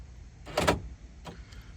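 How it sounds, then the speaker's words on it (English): Door lock actuators on a Land Rover Discovery 2 fire when it is locked by key fob: one quick, sharp mechanical clunk, then a fainter second click, close by in a quiet setting. "I heard all the actuators actuate"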